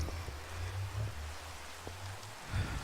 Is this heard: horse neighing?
no